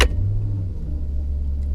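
Deep low rumble of a 2009 Maserati Quattroporte S with its 4.7-litre V8 on the move, a steady engine drone heard from inside the cabin after a brief sharp click at the start.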